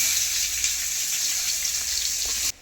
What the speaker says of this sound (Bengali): পেঁয়াজ তো ভাজা হচ্ছে